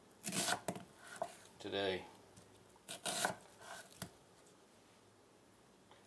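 Knife chopping a peeled onion into a fancy cut on a cutting board, several sharp close chops in small bursts in the first four seconds, with a brief word spoken, then quiet.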